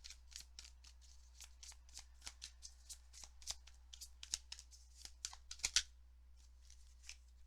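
Tarot cards being shuffled and drawn during a card reading, a rapid run of crisp riffling flicks and slaps, close and clean, with no talking over them.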